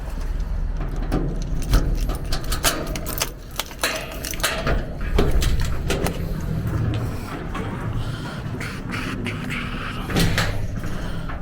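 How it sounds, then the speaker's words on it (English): A garage door is opened with a series of clattering knocks, rattles and scraping bangs, fairly close and loud over steady low background rumble, with no talk. "So we're going to do the epic opening the garage door."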